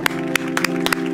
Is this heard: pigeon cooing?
no